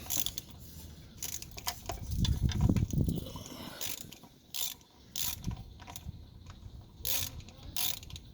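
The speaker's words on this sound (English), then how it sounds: "So here you just put it in and start screwing in." A tow hook is screwed into a newer BMW by hand, producing close metallic ratcheting clicks and scraping turns. Small clinks are scattered through a rustle of handling, with no talk.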